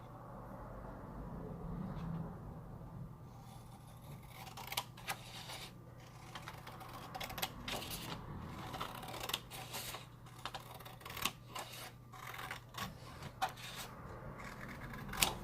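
Scissors snip through paper while a handmade receipt envelope is cut out. Quiet, close, irregular clicks and cuts come in bursts, sometimes quickening into rapid runs.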